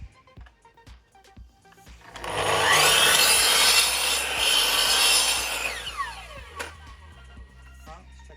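Handsaw cutting across the end of a wooden board to square up a factory-cut edge while building barn doors, a loud steady burst of rasping strokes lasting several seconds, with quieter handling noise before and after.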